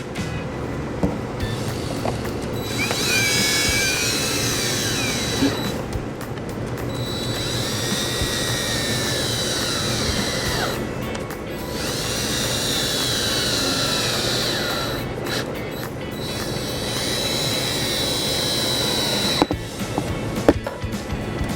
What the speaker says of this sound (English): We can go ahead and put our screws back in.